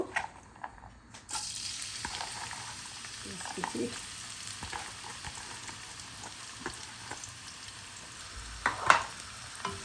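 Chopped onions sizzle steadily in a hot pan for a pasta dish, a constant frying hiss with a few soft stirring clicks and one louder scrape near the end, no talking.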